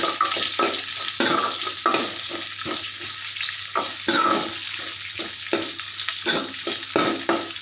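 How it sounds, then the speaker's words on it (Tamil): Onion, dried red chilli and garlic sauté together in a pan for a keerai poriyal, with a steady close sizzle broken by repeated stirring scrapes and clacks, and no talking. "இப்போ வந்து நம்ம வெங்காயம், காஞ்ச மிளகா, பூண்டு எல்லாத்தையும் ஒன்றா போட்டுக்கலாம்"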